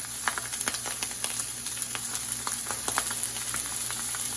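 Butter sizzling in a hot pan alongside a searing steak: a continuous crackling fry with sharp pops and spits scattered throughout, close and fairly loud, with a faint steady hum underneath and no talking.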